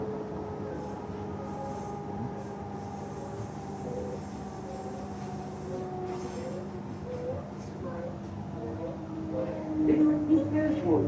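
A C-series passenger train idles or moves slowly at the Perth Stadium platform, its low steady hum and faint tonal whine running throughout, with brief rattling and a louder rumble near the end.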